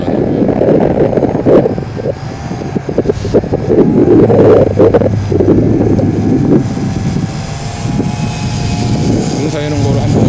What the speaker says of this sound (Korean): 엄청 바람 타고 엄청 빠르게 날아다니고요.